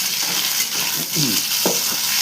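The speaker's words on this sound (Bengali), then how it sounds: "হালকা করে লাল লাল ঝাল ঝাল করে ভাজবো" Boiled potatoes fry with cumin seeds in a pan, a continuous crackling sizzle broken by a few scraping stirs of a utensil, close and unaccompanied by talk.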